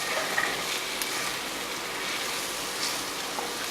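Flour soaked in grease frying in a pan as the base of a biscuit gravy, a steady close sizzle with soft stirring scrapes running throughout.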